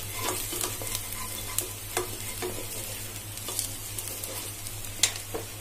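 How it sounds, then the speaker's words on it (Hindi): Onions sizzling in a pan over medium heat for Sindhi chana dal, a continuous frying hiss broken by sharp clicks and scrapes of a spoon stirring, with a steady low hum underneath. "इसको 2 मिनट और भूंजेंगे।"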